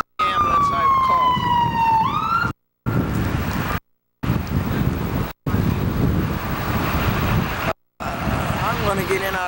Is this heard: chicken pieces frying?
no